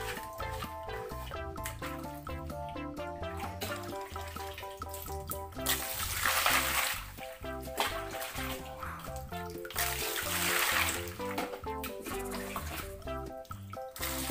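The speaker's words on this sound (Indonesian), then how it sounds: "Kita siram saja ya teman, supaya cepat bersih." Bursts of running water splash and pour twice over a sticky toy sand truck, over cheerful background music, each lasting a second or so.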